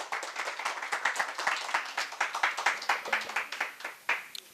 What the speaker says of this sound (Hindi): एक बार जोरदार तालियां धर्मपाल जी के लिए।